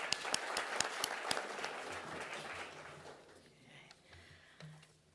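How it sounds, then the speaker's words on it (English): Audience applause for sponsors at a summer talk series, starting with a few sharp close claps over a denser crowd, then quickly thinning and fading to scattered faint claps. "I'd like to give a round of applause to the sponsors who've made the summer series possible"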